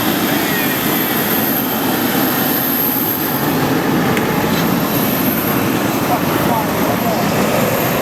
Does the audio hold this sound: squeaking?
no